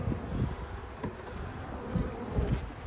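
Honey bees hum at their hive in a soft, continuous buzz, close by but quiet, with a few louder passes drifting in and out and no one speaking.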